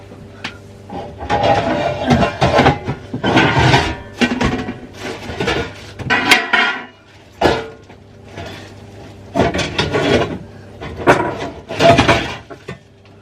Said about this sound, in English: Lots of loud noises while I'm getting cake pans out.